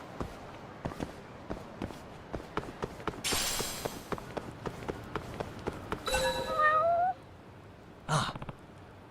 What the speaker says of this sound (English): Did I hear a cat just now?